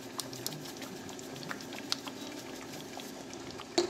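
Tomato sauce bubbles in a pot on the stove, a soft, irregular patter of small pops and blips at close range, with a slightly louder burst near the end.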